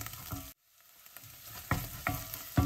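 Ginger garlic paste sautéing in a pan for a chole masala, a steady close sizzle with a few louder stirring scrapes at intervals, no talking.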